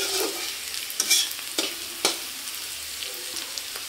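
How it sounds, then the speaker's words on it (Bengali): Vegetables stir-fried in a pan for chow mein, with onion, capsicum, beetroot, carrot and green chilli, give a steady close sizzle broken by a few sharp scraping stirs, with no voices. "পেঁয়াজ, ক্যাপসিকাম আর হচ্ছে বিট, কাঁচা লঙ্কা সব ভাজা হচ্ছে"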